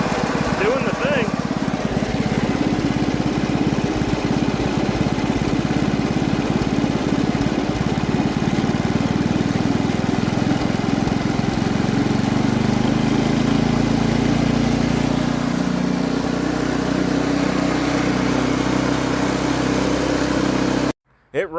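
A restored Craftsman wood chipper's small engine runs loud and steady at close range, a continuous rough drone with shaking, mechanical rattle throughout, then cutting off abruptly at the very end.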